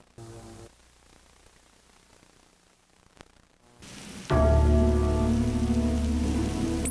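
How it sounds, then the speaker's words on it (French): Rain from a thunderstorm in a 1990 Quebec TV commercial: a quiet hiss at first, then a loud, dense downpour drumming on surfaces for the last few seconds, with no talking. "Les orages de Mathieu"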